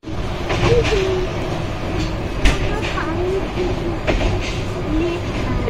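A passenger train in motion, heard from inside the carriage: a constant loud rumble with rattles and a sharp knock partway through, while people talk over the steady noise.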